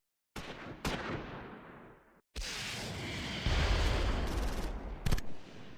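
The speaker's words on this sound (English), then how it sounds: "2nd Platoon's bazooka spots a rear aspect shot at the Panzer IV." Bazooka firing at a Panzer IV in the WWII strategy game Close Combat 4, Battle of the Bulge at Esch-sur-Sûre: two sharp reports, then a long loud rumbling blast with a final crack.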